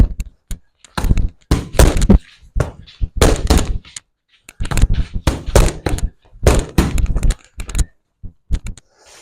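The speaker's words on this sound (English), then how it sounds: "Jab, cross, hook, cross." Boxing punches landing on focus pads in a four-shot jab, cross, hook, cross combination, repeated in sharp, loud, close thwacks and smacks with short pauses between bursts.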